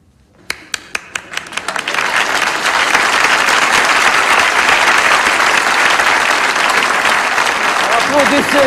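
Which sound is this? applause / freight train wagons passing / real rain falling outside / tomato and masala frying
applause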